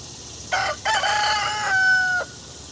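A rooster in a garden crows once, a loud, clear call broken into a short opening burst followed by a long drawn-out tone that cuts off sharply, heard close and alone.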